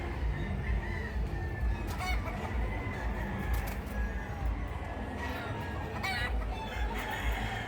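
Gamecock roosters crow and hens cluck continuously in a noisy, crowded fiesta setting, with overlapping bird calls throughout.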